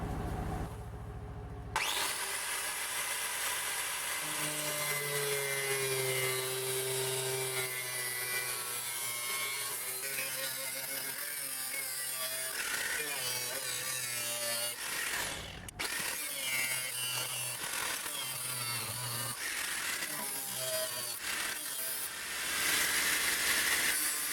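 Cutting into the front of a Volga car to fit a bigger radiator: a continuous harsh grinding and rasping cut runs for over twenty seconds, loud and close, with a brief break partway through and no talk.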